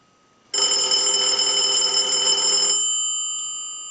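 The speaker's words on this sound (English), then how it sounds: "we'll send a ring cycle to the unit" Western Electric 233G three-slot payphone bell ringing during a ring cycle sent from an analyzer in a repair setup, one loud continuous metallic ring of about two seconds that cuts off and leaves a fading resonance.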